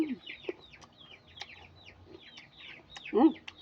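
Hens cluck softly in a string of short calls, with quieter bird chirps overhead and a louder squawk near the end.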